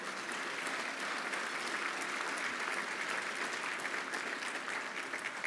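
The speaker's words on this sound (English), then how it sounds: "And a special round of applause in honor of the late Gene Sitt" Sustained applause fills a banquet hall at a military-affiliated fundraising dinner, a dense, even clapping of a large seated crowd that holds steady for several seconds.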